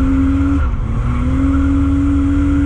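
Steady loud car engine drone held at constant throttle through a drift, with a brief dip in pitch, continuous and close, no talking.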